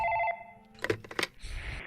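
A telephone in the Night Freak game rings with a short electronic trill, followed by a few soft clicks and knocks and a faint hiss.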